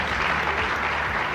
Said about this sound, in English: I'm clapping like I'm there